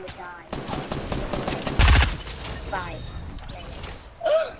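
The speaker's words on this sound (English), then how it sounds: "He had a drum gun!" A drum gun fires in Fortnite as a rapid burst with sharp cracks, loudest near the middle. Excited voices talk over and around it.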